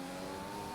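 A Formula 1 car in the racing game F1 2020 accelerates in a brief, steady, high whining engine note that climbs slightly in pitch, heard alone and fairly faint.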